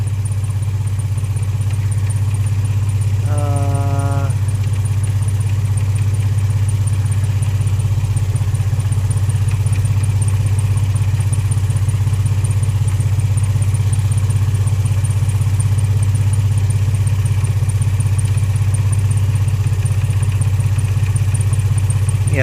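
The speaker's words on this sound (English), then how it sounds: "Cylinder misfire. So it's a random misfire." A 2003 Infiniti G35 engine with a random misfire and camshaft fault codes runs at idle close by, a steady low drone that holds unbroken throughout, with one brief chirp early on.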